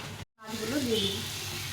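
Pieces of fish slipped into hot fish oil with pumpkin, ginger and cumin paste, giving a steady close sizzle that swells after a brief cut and carries on evenly with faint tonal kitchen sounds over it.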